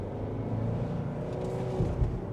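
A 2023 Kia Sportage LX compact SUV merges into slow traffic, its engine giving a steady, close-up hum that swells slightly as it accelerates, with no talking.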